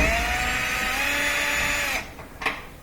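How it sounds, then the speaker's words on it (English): Cordless power screwdriver whirring steadily as it backs out Phillips head screws on a Whirlpool dryer, a continuous close motor tone for about two seconds, then stopping with a brief clunk. "you're going to take out the two Phillips head screws here"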